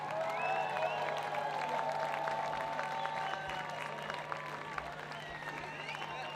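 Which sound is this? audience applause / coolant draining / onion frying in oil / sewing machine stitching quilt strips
audience applause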